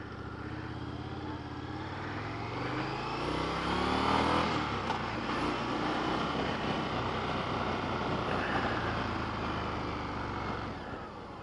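A 2020 Indian FTR Rally motorcycle engine revs close by at a demo day, a rough, loud rumble that swells and falls with throttle changes over several seconds.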